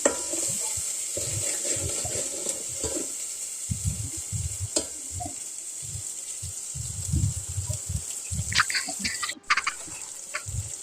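A small spoon of turmeric hits hot oil in a pan over a wood-fired village stove for a chickpea curry, producing a steady close sizzle with occasional stirring scrapes and soft clinks.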